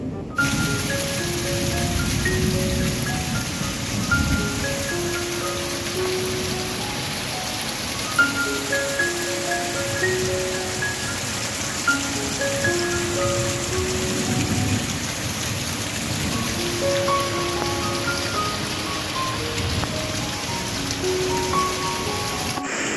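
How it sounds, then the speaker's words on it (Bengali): Heavy rain pours steadily outside a window, a dense continuous wash of drops drumming on surfaces with a low rumble of thunder underneath, loud and unbroken throughout with no one talking. "কতটা এখনও বৃষ্টি হচ্ছে জোরে শব্দটা শুনে তোমরা বুঝতেই পেরেছো"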